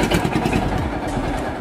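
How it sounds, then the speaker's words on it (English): A tractor engine catches and settles into a steady, dense running rumble that stays loud and close throughout, with no pauses or talk. "Just a gentle tap, and the tractor starts."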